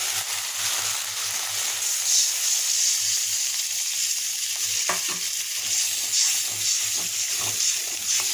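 Water poured into a spice paste that has been fried in oil until the oil separates, giving a steady loud sizzle and hiss with occasional scraping stirs and clinks from the pan.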